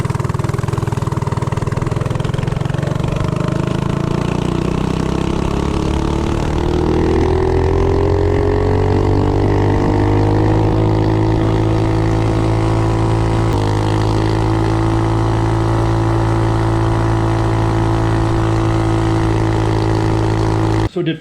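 A Duromax 208 small engine fitted with 1.3 ratio rockers and a 125 jet roars loudly and continuously at top speed, its pitch climbing steadily then holding high and sustained until cutting off abruptly at the end.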